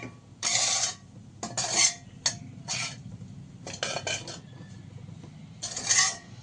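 Chicken fried rice with masala being stirred and tossed in a pan, with repeated metallic scrapes and clinks of a spoon against the pan coming in short bursts, moderately close, with no talk.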